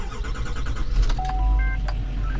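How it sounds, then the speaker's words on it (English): A 2020 Chevy Silverado 6500 truck with central hydraulics cranks and turns over, heard from inside the cab as a steady low rumbling churn with faint whining tones on top. "from it cranking and turning over"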